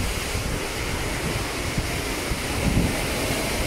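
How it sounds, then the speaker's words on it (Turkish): Indian Ocean surf washes steadily onto the shore at Colombo, Sri Lanka, as a broad, loud, continuous rush mixed with wind buffeting the microphone. "Hint Okyanusu'nun kenarı burası."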